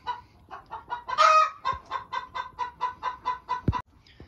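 Several chickens squabble over a single nest box in a coop, a run of rhythmic, evenly spaced clucks with one louder squawk early on, close and fairly loud, with no talk.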